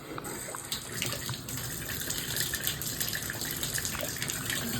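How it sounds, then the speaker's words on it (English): Water gushes steadily from a shower after its supply is turned back on during a cartridge replacement, a close, broadband hiss and splatter that keeps running without a break. "Alright, water's back on."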